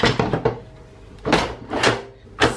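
A Ninja Foodi Max 9-in-1 multi cooker's pressure lid is handled and shut, giving a few quick plastic clacks followed by two louder, heavier thuds and a final clunk, close and loud with no talk.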